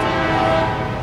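A CSX freight train's horn blares loud and close in one sustained blast over the rumble of the rail traffic.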